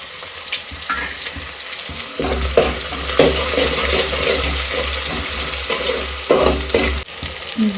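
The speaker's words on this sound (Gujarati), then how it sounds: "હવે નાખી દઈશું લીલું લસણ અને નાખી દઈશું ડુંગળી" Green garlic and onion dropped into a pan and frying, a loud close sizzle that swells and holds steady, with clattering utensil sounds around it.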